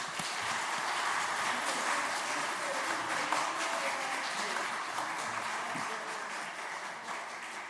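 A congregation applauds during a church ordination ceremony as gifts are presented; dense, even clapping fills the whole stretch, fairly loud and without speech over it.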